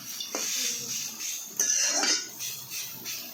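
Snake gourd (chichinga) frying in hot oil in a pan, a steady close sizzle with brief metallic clinks of a utensil against the pan.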